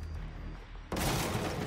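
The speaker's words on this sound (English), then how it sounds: "Barricades can also be destroyed by gunfire." In the tactical shooter Rainbow Six Siege, a sudden loud burst of rapid gunfire erupts after a short stretch of low background rumble. The shots are close and dense and continue to the end.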